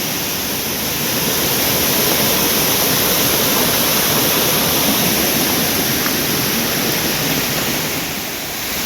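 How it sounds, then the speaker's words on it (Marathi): A monsoon waterfall in Konkan rushes down toward a river, a loud, constant broadband roar that stays steady throughout with no voices. "हा पाण्याचा सुंदर येणारा असा आवाज शांततेच्या ठिकाणी"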